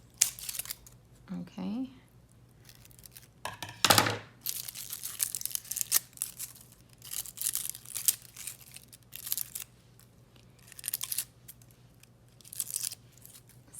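Snips cut through a succulent stem: one brittle crunch near the start and a louder snap a few seconds later, followed by faint rustling of the handled plant, with a spoken word early on.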